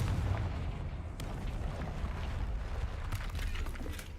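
The Confringo explosion spell goes off in Hogwarts Legacy as a deep, rumbling blast with crackling debris, sustained and fairly loud with no voices over it.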